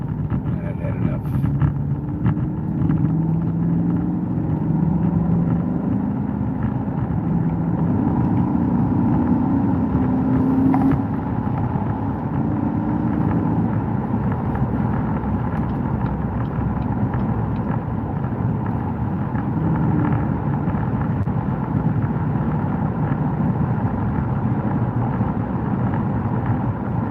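Truck engine and road noise while cruising, a steady broadband low rumble and drone that holds at an even level throughout, with wind buffeting mixed in and no talking.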